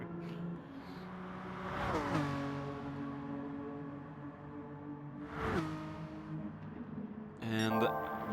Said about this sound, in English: I think we heard the engine sound of Muller.